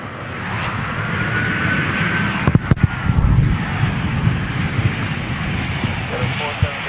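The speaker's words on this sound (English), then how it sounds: "That 320 touching down now. Now let's get this reverse." An Airbus A320 touching down at Amsterdam and going into reverse thrust, a distant broad jet roar rising in a sustained rumble, with a few sharp knocks nearby and people talking.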